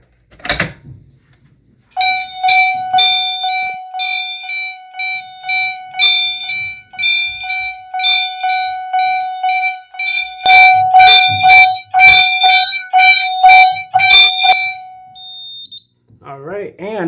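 A Simplex fire alarm chime strobe repeats loud, bright electronic chimes in a steady pulsing pattern for over ten seconds, with a brief voice before and after.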